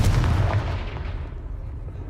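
A Confringo spell blast from Hogwarts Legacy, a heavy booming burst with a deep low rumble that is loud at the start and then slowly trails off.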